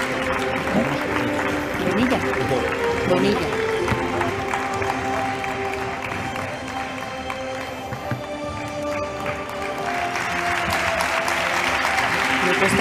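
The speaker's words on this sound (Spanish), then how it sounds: "Un aplauso." An awards ceremony audience in Tomelloso applauds steadily, a dense, continuous wash of clapping from a large crowd that holds for the whole stretch, loud and close.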